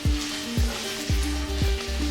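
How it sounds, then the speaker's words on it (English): Cauliflower pieces coated with turmeric frying in hot oil in a pan, a steady loud sizzle close up with a few brief stirring bursts and no talk. "So just in oil I am frying."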